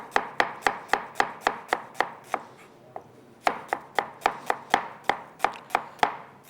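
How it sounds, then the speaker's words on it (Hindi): A knife slicing an onion on a cutting board: quick, evenly spaced crisp chops in two bursts with a brief pause between, close and clear with no talk. "एक अदद प्याज को कर लेंगे स्लाइस।"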